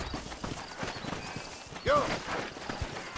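Horse hooves clip-clop in Red Dead Redemption on PS3, a steady run of soft, even footfalls. Someone speaks over them, and a brief whinny or call sounds about two-thirds of the way through.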